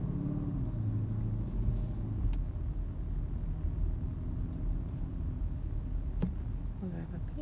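A BMW car drives along with its drive recorder running, giving a steady low road and engine rumble heard from inside the cabin, with a couple of faint clicks.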